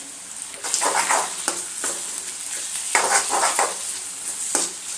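Onions fried with salt and ginger-garlic paste for a dried prawn and tamarind-leaf curry give a steady sizzle, broken by sharp scraping stirs of a spoon at regular intervals, close and alone with no talk.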